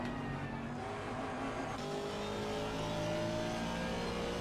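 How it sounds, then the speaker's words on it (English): Jaguar GT3 race car engine in the sim racing game Assetto Corsa Competizione, a low steady drone with rising revs, faint and continuous with no talk. "So I've let you have a little bit of a Jag engine sound"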